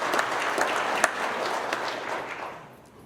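A room of coworkers at a trucking company's monthly celebration applauds new hires, a moderately loud round of clapping that gradually fades out over three seconds.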